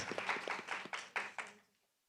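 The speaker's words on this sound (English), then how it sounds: "Give yourselves a round of applause." A short burst of clapping from a small group, faint and a little distant, fading out after a couple of seconds.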